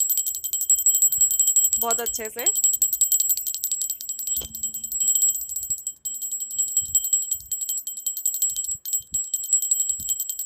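A small brass puja bell is rung rapidly and continuously during Teej worship at home, a bright tinkling that runs the whole time under a woman's speech.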